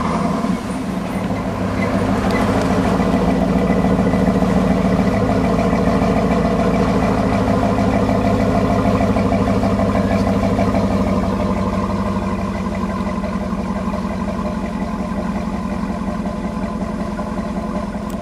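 A 2007 Cadillac Escalade ESV V8 engine idles after remote start, a deep, steady rumble at close range, loud and even, with a low throbbing exhaust tone and no talking.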